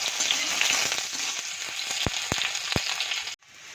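Onion and garlic sizzle steadily in hot oil for an Assamese fish curry with outenga, a bright continuous hiss with a few sharp clinks of a utensil near the end before the sound cuts off.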